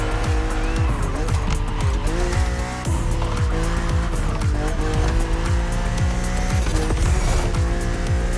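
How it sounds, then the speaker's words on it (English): A BMW Z4 E89 coupe cabriolet races in The Crew Motorfest, its engine roaring loud and steady while tires squeal and skid in repeated bursts, with no voices over it. "Your car is the Z4"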